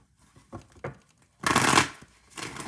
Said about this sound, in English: Talking about the card shuffling?